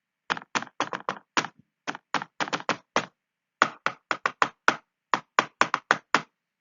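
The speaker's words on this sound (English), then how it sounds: "you heard knocking" Crisp knocks on a hard surface come in quick rhythmic groups of two to five, with short pauses between them. They ring close and clean against silence for several seconds.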